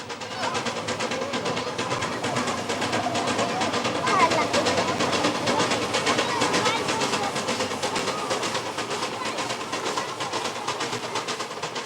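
A small shunting locomotive works up a steep 3.5% mountain grade on the Eritrean railway, giving a continuous rumble with rapid rhythmic chuffing and clanking, steady and moderately near, under narration.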